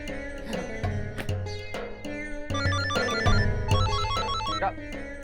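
A phone ringtone plays a repeating electronic melody, moderately loud and continuous, over a low background hum.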